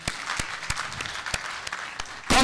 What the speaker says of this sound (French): Dambélé, on t'applaudit très très fort.